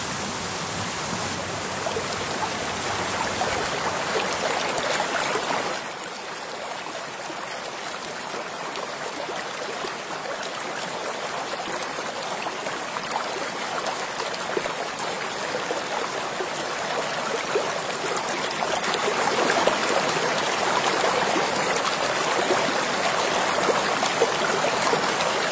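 A steady broadband rush of flowing mountain stream water continues throughout, fairly loud and close, with no voices.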